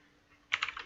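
A brief, quiet burst of keystrokes on a computer keyboard, four or five quick taps close up after a near-silent pause.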